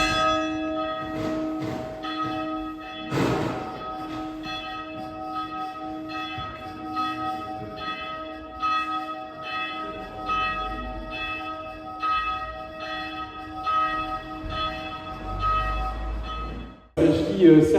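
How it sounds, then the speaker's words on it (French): A church bell that rings the Angelus three times a day sounds in repeated, resonant strikes with long ringing tails, heard at moderate distance beneath a continuous murmur of people talking. "Il s'agit certainement de la cloche,"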